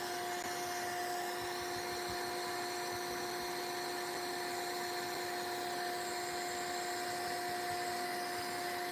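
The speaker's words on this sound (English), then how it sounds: "Brushing and drying at the same time." A dryer blows continuously to dry gesso on a mixed-media project, giving a steady, even droning hum for the whole stretch with no talking.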